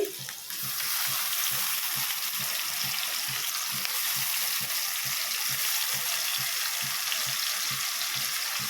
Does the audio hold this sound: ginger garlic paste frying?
yes